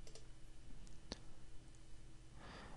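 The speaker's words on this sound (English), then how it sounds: "right click on the main class, go to run as, and click on Java application" A single crisp computer mouse click stands out against faint steady room hum, with a couple of softer ticks around it.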